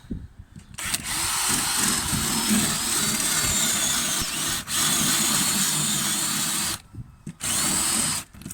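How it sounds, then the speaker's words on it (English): A power drill with a flat bit bores a 65mm hole steadily through a wooden kitchen worktop in long continuous runs, stopping briefly a few times before starting again, loud and close. "I'm going to drill the hole."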